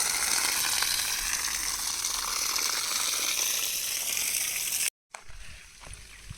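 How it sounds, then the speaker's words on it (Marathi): Water spraying steadily onto plants while a garden is watered in hot weather: a continuous, loud hiss with a brief cutoff near the end, followed by quieter patter and drips. "आता इथे साहेबांनी झाडांना पाणी घालायला घेतलं आहे"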